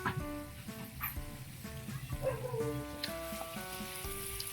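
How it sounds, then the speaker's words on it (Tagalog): Chicken intestines for adobong isaw sizzle steadily in hot oil, a continuous crackling hiss running beneath louder tonal background music for the whole stretch. "Papirito na natin."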